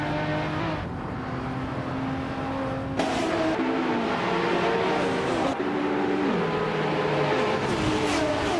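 A 1994 Bugatti EB110 engine in a racing video game, droning loudly and steadily, with pitch climbing through gear shifts and the revs rising again after each change.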